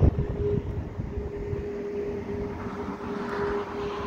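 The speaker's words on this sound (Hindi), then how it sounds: "बाहर देखें इतनी तेज़ हवा है।" Strong wind roars outdoors in Oman in a steady, low rumble that gusts slightly, with no one speaking.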